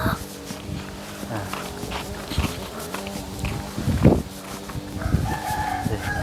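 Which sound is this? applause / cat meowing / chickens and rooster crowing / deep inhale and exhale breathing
chickens and rooster crowing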